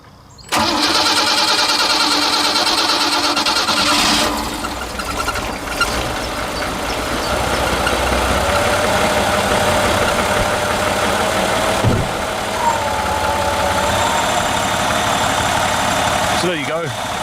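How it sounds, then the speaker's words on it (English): A 1975 Ford Granada GL engine starts and settles into a steady, smooth idle, close and loud for most of the stretch, with a brief bump in the middle. "So there you go, very smooth engine."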